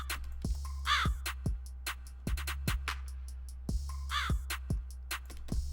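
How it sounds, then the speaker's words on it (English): A crow caws repeatedly in short bursts over a trap beat, its calls mixed with punchy kick drums and a sustained deep bass tone in a steady, looped rhythm. "I basically just made it to show the crow sample and here it is."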